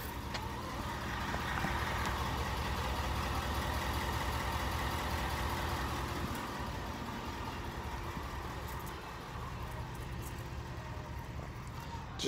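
A 2021 Ford F350 pickup idles steadily at close range, a continuous low rumbling engine drone with even texture throughout and faint background noise.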